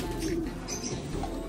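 Pigeons, a red bird and a dark check, arriving at the loft, with soft low cooing over a steady outdoor background and faint chirps; no talk in the moment.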